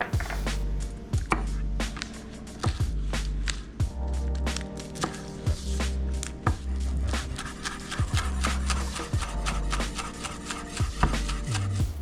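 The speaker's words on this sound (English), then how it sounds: "I'm gonna start by cutting my scallion." A knife chops scallion on a cutting board while cooking beef bulgogi lettuce wraps, giving a steady run of crisp, evenly spaced cuts over about twelve seconds, close and clear above a low, constant background drone.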